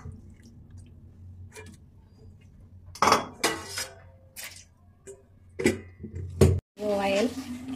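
A metal lid clinks down onto a cooking pot of marinated mutton for curry, giving several short, sharp clanks and rattles close by, with a voice speaking briefly near the end.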